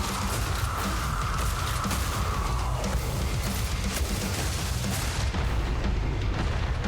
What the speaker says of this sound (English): the Vulcan can go through geometry with its explosions